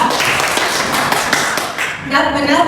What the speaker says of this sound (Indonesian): Oke, kasih tepuk tangan untuk Nafis dan Angga